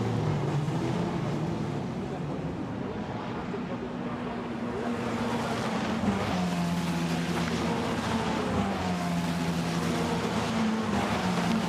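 Formula Renault Eurocup race cars in a 2019 race at Spa-Francorchamps, heading downhill after La Source. A steady, loud engine drone carries shifting, wavering pitches that rise and fall as the cars pass, with a constant background roar.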